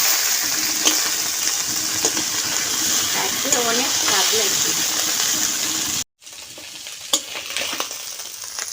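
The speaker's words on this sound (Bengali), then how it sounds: "এই যে বাকি মাছগুলো ভেজে নেব" Tangra fish, full of roe, frying in hot oil in a home kitchen, giving a steady dense sizzle throughout with occasional stirring clatters and a brief cut near the end, while someone talks over it.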